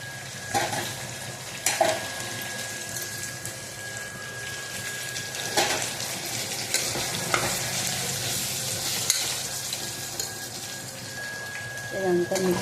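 Ginger-garlic spice paste with cumin, coriander and poppy seeds fries into mutton curry with a constant crackling sizzle, punctuated by stirring scrapes and knocks against the pot throughout.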